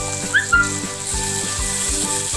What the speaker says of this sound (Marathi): त्यात आपण टमाटे सुद्धा मी छान परतून घेते